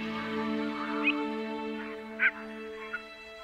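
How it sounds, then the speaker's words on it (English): Greylag geese calling over Oostvaardersplassen marshland in the Netherlands: a few short, nasal honking calls spaced a second or so apart, moderately close, over a steady tonal hum. "The mewing geese have a big influence on the marshland."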